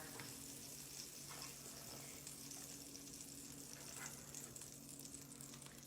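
Butter sizzles steadily in a hot crepe pan, a constant close hiss with a low hum underneath and a few faint clinks, no talking.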